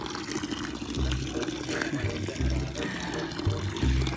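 Water runs and splashes from an outdoor faucet as someone bathes, a faint continuous trickle broken by repeated low splashing pours at a steady rhythm.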